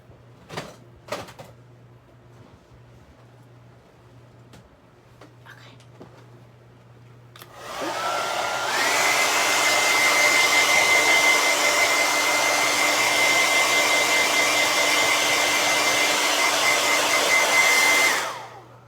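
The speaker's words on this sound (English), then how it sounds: "I'm gonna blow dry it real quick" Hair dryer blow-drying hair indoors, switching on partway in with a loud steady whooshing roar that holds for about ten seconds, after a few faint knocks and clatters.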